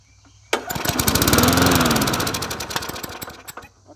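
Huskee 22-inch side-discharge push lawn mower, worn and neglected, yanked into life with a sudden catch then a loud, close, chattering small-engine roar that swells, steadies and sputters as it runs alone.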